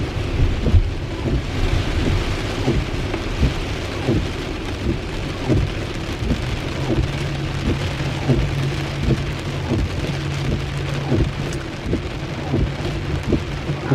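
Heavy rain pours down steadily over a wet road, a dense, even hiss with occasional low rumbles of thunder beneath it and no voices.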